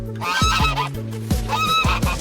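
Goose honking loudly and close by, a run of about eight harsh, nasal honks in quick uneven bursts with a short pause midway, with no other sounds.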